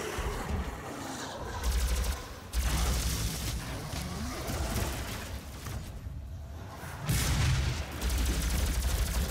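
Gunfire in the video game DOOM: dense, loud volleys of shots and heavy booms, with bursts swelling and easing in uneven waves and no talking.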